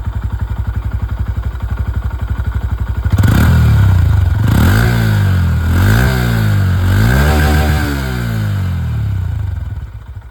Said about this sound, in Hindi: दोनों ही बाइक की जो एग्जॉस्ट साउंड है वो आप लोगों ने सुन लिया